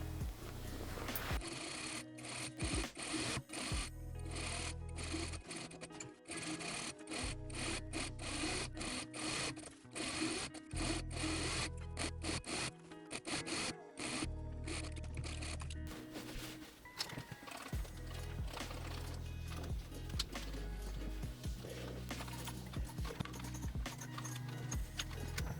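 A sewing machine top stitches a twice-folded hem on a satin blouse, running in a steady mechanical rattle that briefly stops and restarts, close and fairly quiet with no speech.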